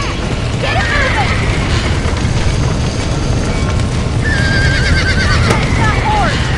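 Horses neigh twice in Red Dead Redemption, shrill whinnies separated by a few seconds, over rumbling hoofbeats and background game effects.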